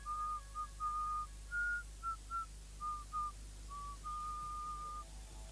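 A single person whistles the death march tune slowly and clearly, a string of held and short notes in a mournful phrase ending on a long sustained tone, alone against quiet background hum.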